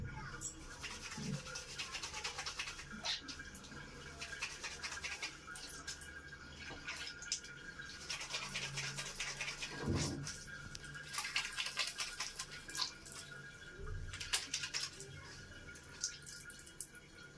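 Water poured over oily hair during a wash, with intermittent splashing and trickling that swells and fades in uneven bursts, fairly quiet and close, alongside faint rubbing sounds.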